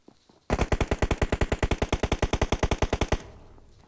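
Rapid automatic gunfire in a video game, a single loud burst of about thirty evenly spaced shots lasting under three seconds, followed by a short fading tail.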